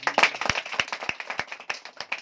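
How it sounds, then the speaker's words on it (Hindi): Audience clapping in a sparse, uneven patter of individual hand claps, fairly quiet and a little distant, with a few sharper claps standing out over a couple of seconds. "शुभकांत जी के लिए भी जबरदस्त तालियां होनी चाहिए।"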